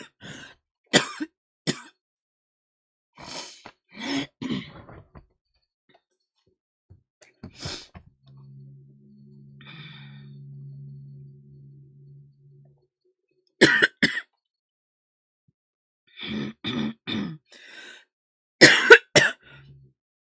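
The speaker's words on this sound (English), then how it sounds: "I'm coughing and I haven't even done anything." Several bursts of coughing and throat clearing, some close and loud, separated by quiet gaps, with a soft low hum in the middle and a cluster of harsh coughs near the end.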